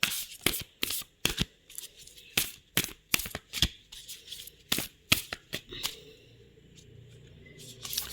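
Tarot oracle cards shuffled and drawn by hand: a quick run of crisp, close riffling snaps and slaps, then a softer rustle as the handling slows near the end.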